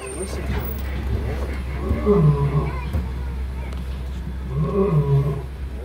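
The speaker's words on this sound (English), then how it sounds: "if you listen, you can hear the lion chuffing" A lion at the Disney Animal Kingdom safari gives two deep, rumbling chuffing calls a few seconds apart, moderately near, with faint crowd murmur in the background.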